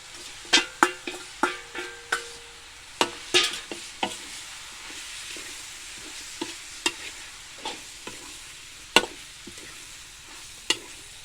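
A spatula scrapes and stirs chicken with red curry paste and bamboo shoots in a hot pan, giving a steady series of sharp, close clacks over a soft background sizzle, with no talking.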